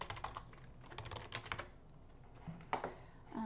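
Computer keyboard typing a search query, with quick bursts of close key clicks, a pause in the middle, then a few more taps, quiet and alone.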